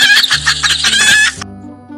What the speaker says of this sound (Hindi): अब मुर्गी की आवाज भी सुन लीजिए।